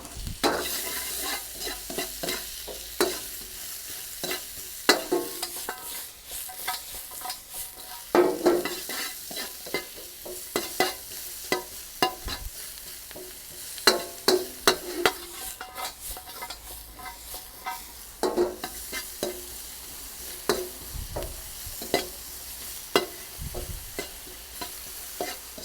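Onion frying in oil seasoned with Chinese salt and pepper, a steady close sizzle with repeated scraping and stirring clatters from a utensil in the pan, no voices.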